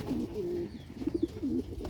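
Male breeder pigeons coo nearby in repeated low, rolling bursts: a long throaty phrase, a pause, then a few pulsing coos and another rolling phrase, with no voices over them.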